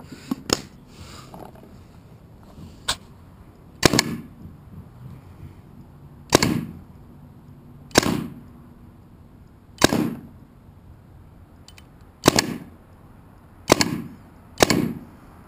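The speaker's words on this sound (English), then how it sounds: "I wanted to just try some reball here over the chrono and see where this thing's at, and also see if my catcher here will hold up" A paintball marker with a gravity-fed hopper fires reballs into a homemade catcher, giving eight or nine sharp, loud shots at irregular intervals of one to two seconds, each with a brief thud and rattle, against quiet room noise.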